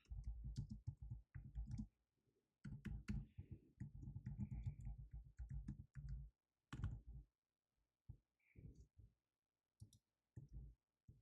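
Quick clattering keystrokes on a computer keyboard come in uneven bursts with brief pauses between them, close and fairly quiet, with no voices.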